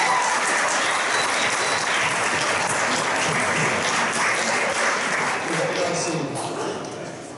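An audience at a city's State of the City address breaks into sustained applause, a thick, loud roar of many hands that holds steady and then begins to fade toward the end.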